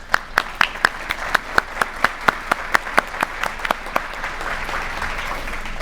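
At an awards and pinning ceremony, sharp, distinct claps ring out in a quick, regular run for about four seconds, then give way to a softer, sustained wash of room noise.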